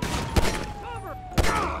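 Two sharp gunshots crack out in a Grand Theft Auto police game, spaced about a second apart, with game ambience and faint tonal sounds in between.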